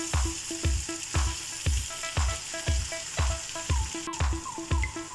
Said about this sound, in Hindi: ये अभी भी फ्राई हो रहा है।